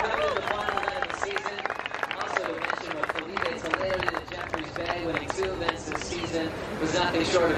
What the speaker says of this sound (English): Give those guys a big round of applause because they're sweet.